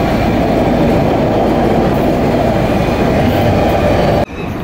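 Loud, steady rumble of a tram ride in Gothenburg, Sweden, with continuous rail and wheel noise that drops away abruptly near the end.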